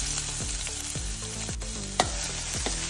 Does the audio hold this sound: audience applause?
no